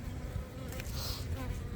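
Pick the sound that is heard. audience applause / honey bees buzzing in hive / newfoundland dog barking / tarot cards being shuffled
honey bees buzzing in hive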